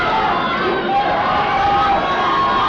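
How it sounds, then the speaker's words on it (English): A dense arena crowd at a women's 145-pound striking fight, roaring and chattering in a steady, loud wash of cheering with mixed shouts and no breaks. "And this one has the crowd into it."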